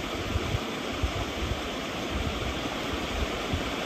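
A forest stream at Gular Ghati near Dehradun rushes in a continuous, fairly faint wash of flowing water with small splashy bursts, heard on its own without voices.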